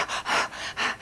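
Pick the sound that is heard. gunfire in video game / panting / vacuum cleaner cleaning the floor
panting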